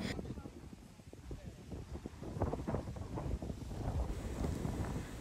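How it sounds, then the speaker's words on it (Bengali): Strong gusts at Edinburgh Castle in Scotland buffet the microphone in a loud, uneven low rumble that surges and fades throughout. "এইখানের বাতাস এক কথায় মারাত্মক, এত বাতাস যা আমি আগে কখনোই ফিল করিনি।"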